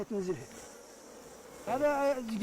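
A low steady buzz of honey bees hums in the background during a honey harvest while a person talks briefly over it.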